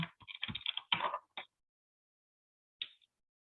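Sticky tape pulled and pressed down to fix a photo onto a scrapbook page, a quick run of crackly tearing and tapping sounds followed by a short pause and one final faint peel.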